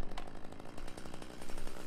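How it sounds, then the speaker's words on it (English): A chainsaw in the video game Luigi's Mansion 3 buzzes with a rapid rattling, pulsing drone, steady and moderately loud for about two seconds. "a chainsaw"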